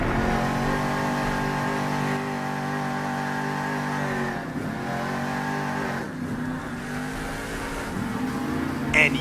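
A monster truck powering off on four big BKT tires, its engine roaring and revving in a loud, sustained drone that swells and dips, heard alone with no talk.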